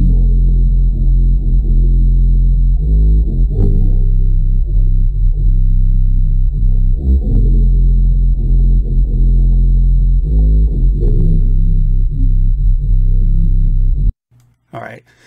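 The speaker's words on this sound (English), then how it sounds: "you can hear that bass clip" A heavily distorted bass line from a looped electronic music track plays loud and continuous, with thick low-end tones and repeating rhythmic hits, ending abruptly with a brief pause.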